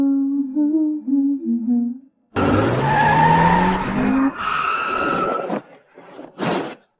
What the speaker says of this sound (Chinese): 车不受控制了，刹车也不灵了